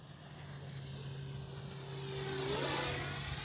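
Radio-controlled F-86 Sabre jet model passing overhead, a steady whine that grows louder then shifts in pitch as it flies by, with no talk.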